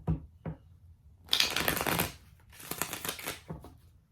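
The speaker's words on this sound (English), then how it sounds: "we're going to do one more shuffle" A deck of tarot cards is shuffled close up, a few short riffles and taps followed by two longer crisp riffling bursts, with no talking.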